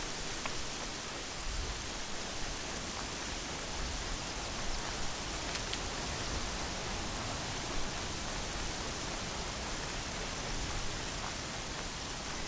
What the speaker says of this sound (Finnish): Tää sade itse asiassa peittää aika tehokkaasti muutkin äänet alleen.